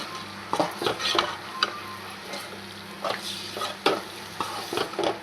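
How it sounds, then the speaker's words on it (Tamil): Half a kilogram of cleaned, cut beef liver frying and being stirred in a pan for a hotel-style liver thokku, with a steady sizzle and repeated scraping stirs of a utensil against the pan, up close with no talking. "இதில் வந்து நம்ம பீஃப் ஈரல் 1/2 kg பீஃப் ஈரலை சேர்த்துக்கலாம்."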